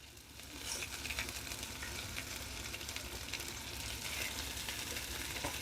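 Homemade meatballs brown in a frying pan, a steady loud sizzle and crackle of hot fat that holds constant with no talk.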